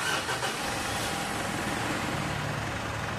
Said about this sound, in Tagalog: tapos start ko itong makina.